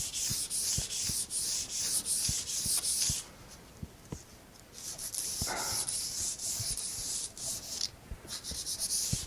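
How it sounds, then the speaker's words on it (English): Repeated scratchy rubbing strokes of 100-grit sandpaper roughing up synthetic bow hair, close and quiet, in a steady rhythm with a brief pause midway. "Take 100 sandpaper and rough it up like this."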